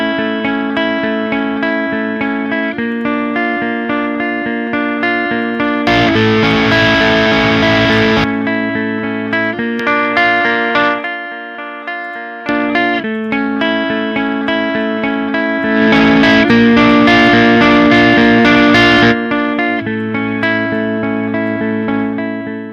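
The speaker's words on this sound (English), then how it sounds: "so this is the Healthy Clean preset, which is included in the plugin." An 8-string electric guitar run through the Healthy Clean preset of the Neural DSP Fortin Cali Suite amp plugin plays sustained clean chords and arpeggiated notes, loud and close, with chorus-like shimmer and reverb tails, stopping briefly mid-passage.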